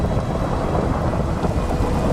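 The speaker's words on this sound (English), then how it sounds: "At least it's a nice view, and it thunders." Rumbling thunder during a rainstorm in a video game, a steady low roll with rain hiss continuing throughout.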